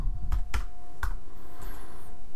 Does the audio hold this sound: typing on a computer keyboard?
yes